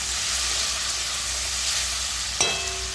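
Pumpkin pieces fry in a kadai of oil with dry red chilli and panch phoron, a steady bright sizzle and hiss, ending in a short clatter of stirring.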